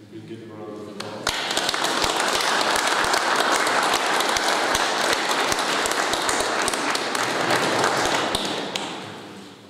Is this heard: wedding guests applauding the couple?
yes